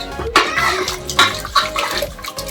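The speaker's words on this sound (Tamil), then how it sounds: "கொஞ்சமாக வாட்டர் ஆட் பண்ணிக்கோங்க." Water splashes and pours in uneven gushes into a cooking pot close by, loud and irregular, with a faint voice in the background.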